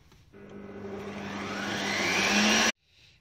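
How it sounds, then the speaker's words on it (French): Electric hand mixer whips two egg whites with sugar into stiff meringue peaks, a steady whirring buzz that starts abruptly, grows slightly louder and brighter over a few seconds, then cuts off sharply. "maintenant nous allons monter nos blancs d'œufs en neige"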